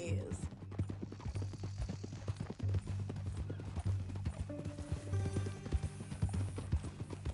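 Horse hooves clip-clopping steadily in Red Dead Redemption 2 on PS5, the even clatter of a walking horse up close, with voices and low background music over the hoofbeats.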